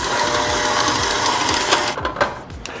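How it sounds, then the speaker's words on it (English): A stand mixer running at medium speed, beating cream cheese, gives a steady close mechanical whir with a rhythmic churning pulse, then shifts and sputters briefly near the end, no voices. "We're going to use about a medium speed on the stand mixer."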